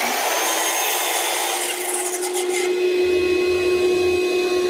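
A miter saw runs a loud, steady whine close by while it cuts dadoes in a wooden board, its pitch shifting partway through the cut, with no voices.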